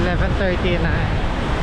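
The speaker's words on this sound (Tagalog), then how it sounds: "Malakas pa rin ang alon." Strong ocean waves roar and wash steadily onto Boracay beach, loud and close. A person speaks briefly over the surf noise.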